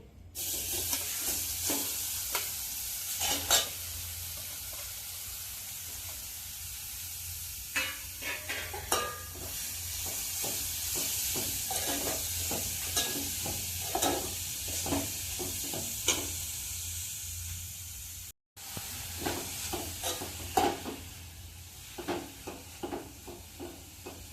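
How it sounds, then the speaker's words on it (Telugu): Grated carrot frying in ghee for carrot halwa: a soft, steady sizzle with frequent light scrapes and taps of a spatula stirring, fairly quiet, with one brief cut to silence and no talking. "ఇది నేతిలో 2 నిమిషాల దాకా వేపుకుందామండి."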